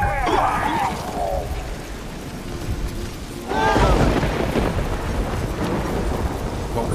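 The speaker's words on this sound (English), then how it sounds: "A magic explosion of some sort. So powerful that even the echo was dangerous." A magic explosion in the video game The Witcher 3 booms out as a deep rumbling blast, followed by a second loud surge of crackling, echoing thunder-like roar.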